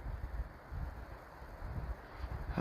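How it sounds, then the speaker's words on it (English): Steady low rumbling wind buffets the microphone in a forest, gusting in waves with no voices present. "Let's listen to that wind."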